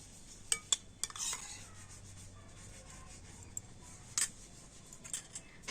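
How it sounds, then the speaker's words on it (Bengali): A spoon or whisk beating batter mixed with sour yogurt in a bowl gives faint, intermittent scraping and a few sharp clicks against the sides, with no talking. "টক দইটা দিয়ে আবারও ব্যাটারটাকে ভালো করে ফেটিয়ে নিচ্ছি"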